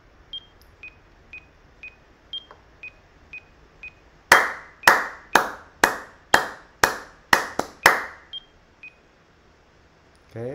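Nine sharp hand claps in a steady rhythm, loud and close, sounded alone to calibrate a music app recording; soft metronome-like beeps tick before and after.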